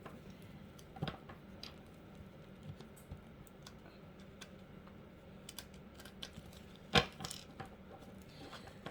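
Tarot cards are shuffled quietly, a soft irregular patter of ticks and flicks with a couple of sharper slaps, close and faint with no talking.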